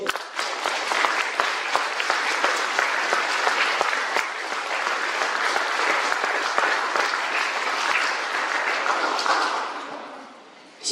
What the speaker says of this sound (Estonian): teeme meie üheksandikele alustuseks kirgliku aplausi